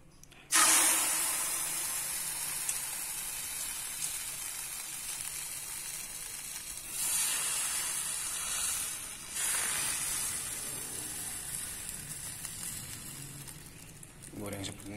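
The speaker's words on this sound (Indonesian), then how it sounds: "Kita coba pakai goreng pakai ini sisa telurnya." Leftover egg fries in reused oil in a large Maspion teflon pan, a steady bright sizzle and hiss that starts abruptly and carries on with a couple of louder surges, under occasional speech.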